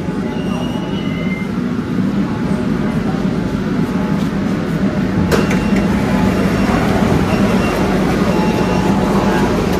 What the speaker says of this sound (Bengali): আপনারা দেখতে পাচ্ছেন সেই মেট্রো বা সেই রেল অলরেডি চলে এসছে